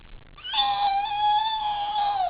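A voice imitates a cat with one drawn-out, wavering meow, close and clear, rising and then held before tapering off.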